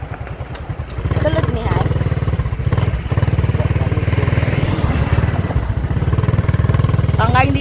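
A motorcycle in poor repair runs with a loud, close, rapid chugging throb that holds steady for several seconds. Someone talks briefly over it.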